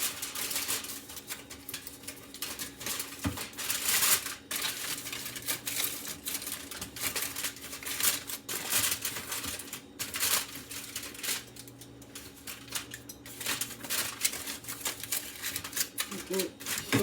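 Aluminium foil crinkles and crackles in irregular bursts as it is wrapped tightly around a brisket. The handling is close and fairly steady, with intermittent talking in the background.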